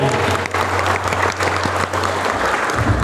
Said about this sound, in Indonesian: Tepuk tangan yang gembira nih.